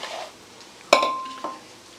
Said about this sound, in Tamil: இந்த குக்கரில் எல்லாத்தையும் போட்டுருவோம்